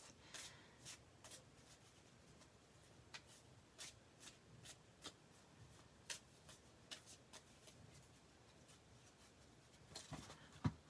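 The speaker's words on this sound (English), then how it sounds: "I like shuffling. I find it calming. These are really stiff new cards." Stiff new playing cards are shuffled by hand before a bingo game during a live catalog launch. A quiet, close run of crisp riffling bursts and flicks repeats steadily, with no talk.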